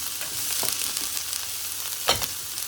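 Chopped onion cooks in an electric slow cooker, giving a steady hissing sizzle close by, with a sharper clatter or stir about two seconds in and no voice.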